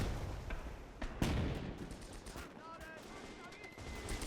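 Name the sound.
50mm Pak anti-tank gun firing, from video game Gates of Hell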